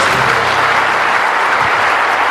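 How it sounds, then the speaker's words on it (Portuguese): Church congregation applauding in praise of God: a loud, continuous roar of many hands clapping together, with a faint low tonal hum under it at the start. "A salva de palmas ao nosso Deus."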